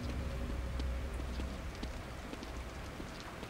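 Steady rain falls in the video game The Evil Within, a dense even patter of drops spread wide across the soundscape with faint scattered taps and a low rumble beneath, no voices.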